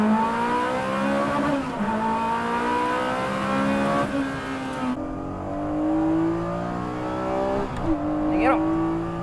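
Race cars, including a Corvette ZR1, Ferrari 458, NSX-R and 370Z, accelerate hard on a track, engines rising in pitch through repeated gear changes, loud and close, with a commentator speaking excitedly over the noise.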